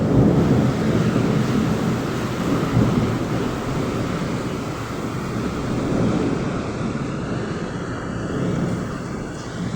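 A continuous, heavy roar of a severe thunderstorm with lightning in Firozabad district, India, deep rumbling thunder rolling underneath, loud and unbroken, with no voices.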